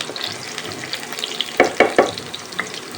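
Chopped raw tomato fries in a pan, giving a soft steady sizzle with a few sharp scraping stirs of a utensil near the middle, close by.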